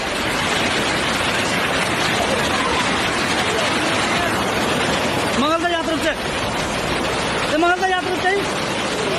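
Swollen floodwater rushes in a stream during heavy rain, a loud continuous roar throughout, with brief shouting voices breaking over it near the end.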